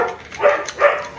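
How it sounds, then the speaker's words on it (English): Dogs barking in a home garage during a 1969 Ford Falcon XW restoration, two fairly close yelping bursts in quick succession with no talk over them. "Here come the dogs."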